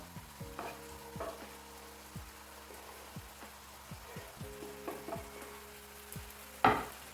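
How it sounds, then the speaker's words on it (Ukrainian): Meat, onion and carrot fry in oil in a pan, giving a low steady sizzle punctuated by repeated scraping stirs at an uneven rhythm, with a sharper clatter near the end. "перемішуємо і теж обсмажуємо"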